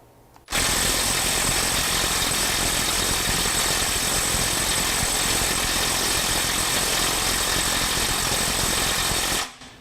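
Snap-on impact wrench hammering in power mode 2 against a bolt torqued to 200 ft-lb, a loud, steady rattling whir that starts abruptly and runs unbroken for about nine seconds before cutting off.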